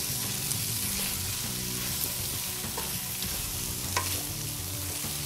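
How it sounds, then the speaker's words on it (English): Potatoes stirred and fried in a pan for aloo mattar paneer, with a continuous close sizzle and hiss, a few soft scraping strokes and light clicks, and no voices. "let's start off with our potatoes and mix those in really well"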